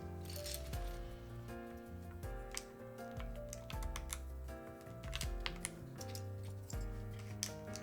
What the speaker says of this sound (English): You just putting on the keycaps, I can already tell it sounds fire.